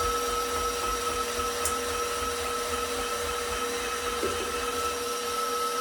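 A KitchenAid stand mixer fitted with the slicer/shredder attachment slices potatoes at a mid speed setting, producing a steady, quiet motor whir with a faint tonal hum and a tiny click partway through.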